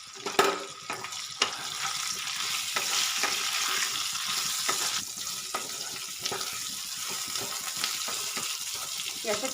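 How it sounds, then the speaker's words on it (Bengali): Pumpkin and mixed vegetables fry over a high gas flame in a Bengali vegetable labra, a steady loud sizzle broken by sharp spatula scrapes and clinks against the pan. "প্রথমে এগুলোকে আঁচ বেশি করে, অর্থাৎ গ্যাসের ফ্লেম জোরে রেখে আমি কিছুটা ভেজে নেব।"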